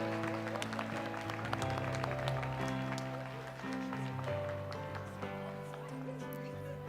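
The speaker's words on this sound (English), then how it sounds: "Please, another round of applause as Dr." An audience claps for an honoree at a university alumni awards ceremony, steady scattered applause with sharp individual claps over a low tonal backdrop, fairly faint and heard from a distance.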